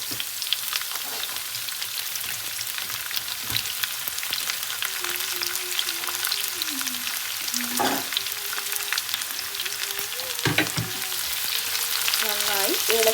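Chopped onion frying in a pan for chicken puff filling, a steady close sizzle with occasional scraping stirs, alone with no talk.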